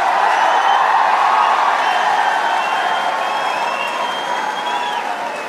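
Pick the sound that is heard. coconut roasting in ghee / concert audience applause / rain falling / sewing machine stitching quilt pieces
concert audience applause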